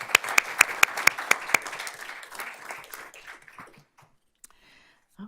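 An audience applauds teachers: about two seconds of loud, distinct claps that thin out and fade into scattered faint taps before quiet.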